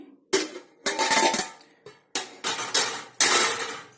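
A metal lid goes onto a chicken biryani pot on a stove, producing several sharp clanks and rattles in uneven bursts that ring briefly and fade, close up with no talking.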